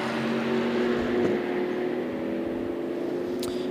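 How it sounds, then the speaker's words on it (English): The IMSA Performance Porsche race car, number 76, passes with a steady, loud engine drone that holds an even pitch throughout. "So sounds like a Porsche, yes, yeah, because Yamane is driving it."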